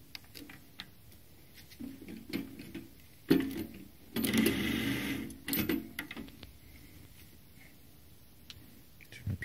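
A vial capping machine crimps caps onto 10R glass vials after changeover from 2R, giving a run of mechanical ticks and clacks with a louder burst of whirring mid-way, at moderate distance, with no talk.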